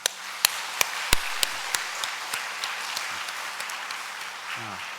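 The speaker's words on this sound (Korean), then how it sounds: "크게 박수로 환영하겠습니다" A church congregation at a Sunday service in Korea claps to welcome a missionary. A few sharp nearby claps stand out over a steady mass of softer applause that thins out toward the end.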